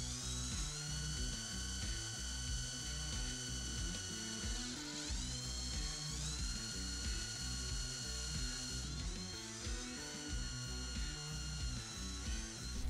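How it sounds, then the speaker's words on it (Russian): Drilling holes for hook loops in a homemade pike rattlin lure, a steady whirring small drill running close and loud with a dense rattling, ratchet-like texture and brief pitch shifts as it bites. "Сверлю отверстие под петли."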